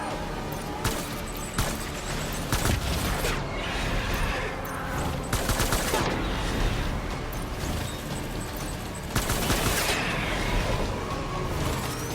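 Bursts of gunfire and explosive blasts in the video game Death Stranding, loud and dense with several sharp volleys over a constant rumbling battle din, with faint voices beneath.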